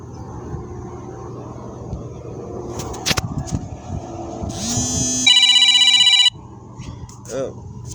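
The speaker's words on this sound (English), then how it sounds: "Oh, that's my alarm telling me" A phone alarm chimes in a brief electronic ringing pattern for about a second, then stops, against background noise and faint talk.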